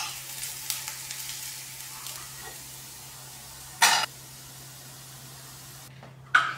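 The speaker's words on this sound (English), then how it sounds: "two carrots grated that I saute it only for 2 minutes time" Grated carrots sautéing in an oil pan give a steady soft sizzle, with a couple of brief louder stirring bursts near the start and end.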